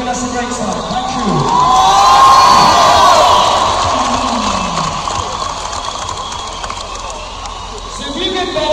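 A concert crowd cheers and shouts at a 1978 show in Berlin, a loud, sustained roar of a large audience that swells and then slowly eases, with a voice talking over it.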